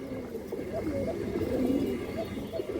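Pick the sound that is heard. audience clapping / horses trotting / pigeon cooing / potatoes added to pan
pigeon cooing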